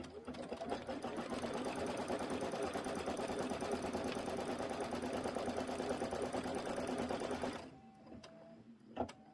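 Sewing machine running a tack down stitch on a quilt block, in one steady, continuous whir lasting several seconds, then stopping with a few faint clicks near by.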